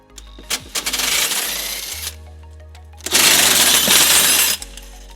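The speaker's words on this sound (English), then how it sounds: "It's held in by 2 bolts that we'll remove using a 17mm socket." Removing the tow hook bolts on a 2006 Toyota RAV4 with a 17mm socket gives two long bursts of harsh, ratcheting metallic clatter, each lasting over a second, close and loud, separated by a short lull.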